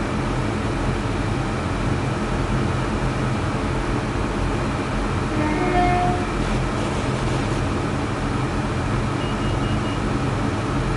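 A diesel Class 170 train engine in Train Sim World 5 on the Birmingham Cross City line drones steadily and loudly, a constant low rumble with a brief whine in the middle and no talking.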